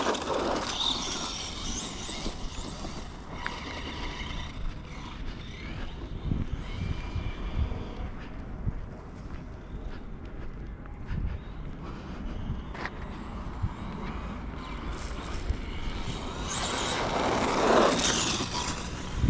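An Arrma Vorteks Mega 2WD RC car with a 3800kv 3660 motor on 3S power whines and revs steadily outdoors on dusty ground, with the sound swelling louder near the end.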